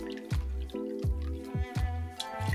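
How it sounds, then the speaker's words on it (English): Freshly squeezed lemon juice, measured at 20 ml for a Penicillin cocktail, drips and trickles into a jigger or glass in a quick series of close, distinct liquid plops with no talk. "We're gonna start with freshly squeezed lemon juice"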